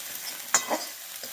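Garlic-ginger paste with onion masala roasting in a pan, with one quick spoon scrape near the middle over a faint, steady sizzle.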